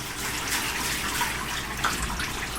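Water pours steadily over a person's body as they are rinsed from behind during washing, a continuous close splashing gush that stays at an even level for the whole stretch.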